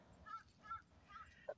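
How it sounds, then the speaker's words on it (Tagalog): Three or four faint crow caws repeat at an even pace, distant against a low background hum. "Ayun, may uwak."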